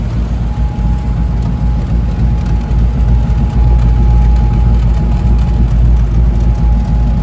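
A deep, throaty engine rumble from the V8 exhaust of a 1932 Ford Roadster street rod, loud and continuous, with a heavy low growl and no voices.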